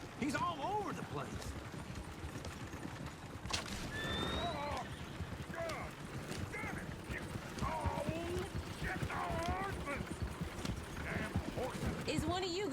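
A horse in the video game Red Dead Redemption 2 whinnies repeatedly over steady clip-clopping hooves, with other voices and calls mixed in around it.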